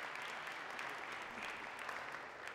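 Audience applause at a nonprofit open house presentation on hydrogen, a steady, fairly distant wash of clapping heard throughout.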